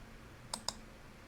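A computer mouse right-clicks twice in quick succession, each a sharp, close, quiet click over faint room hiss.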